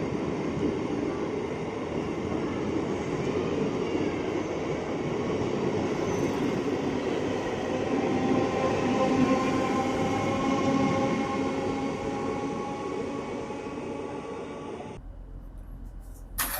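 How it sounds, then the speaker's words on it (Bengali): A passenger train on the South Eastern railway line near Jhargram rumbles past with a continuous loud rolling roar and clattering wheels, the noise cutting off abruptly near the end. "সাউথ ইস্টার্ন লাইনে ট্রেনের কোনো ঠিক ঠিকানা নেই, তবে এই ট্রেনটা ঠিকঠাক টাইমেই চলে।"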